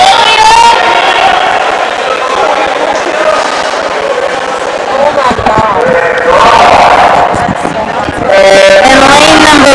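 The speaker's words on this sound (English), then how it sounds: "You can see the crowd of Gusties cheering for her down there" A college swim meet crowd of Gustavus supporters cheers for a swimmer, a steady loud wash of voices and shouting in an echoing pool hall, with an announcer's voice over it and swelling yells toward the end.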